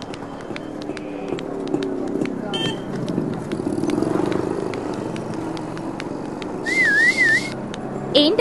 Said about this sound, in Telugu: విజిల్ మంచి సౌండ్ మీద వస్తున్నాయి